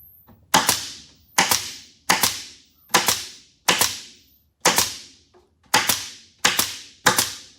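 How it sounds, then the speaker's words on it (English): Staples are driven one by one into material on a horizontal bee hive, nine sharp, evenly spaced clacks with short ringing tails, close and loud with nothing else heard. "So I actually am stapling as close to the inside lip as I can."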